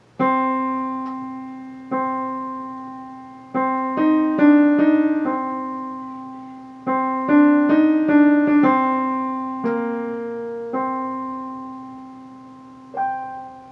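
Keyboard playing a line from Khachaturian's Andantino, a simple, clear melody of individual notes with a sustained lower tone, played alone at moderate volume with gentle pauses between phrases.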